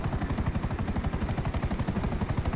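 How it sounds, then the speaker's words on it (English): A helicopter in a video game gives off a fast, steady rotor chop. The rhythmic thumping pulses evenly throughout at moderate volume, with no talking over it. "Alex, there's a helicopter."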